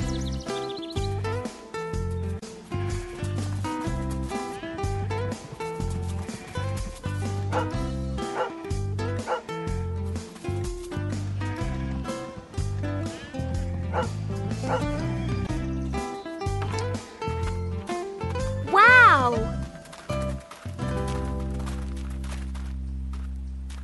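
A dog barks and yips repeatedly in quick bursts over steady background music, with a louder, higher whining yelp near the end.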